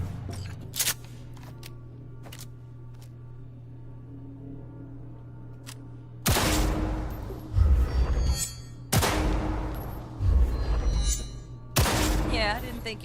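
Bursts of gunfire at a tactical target practice range in Cyberpunk 2077, several loud volleys after a quiet stretch with low background hum, separated by short pauses.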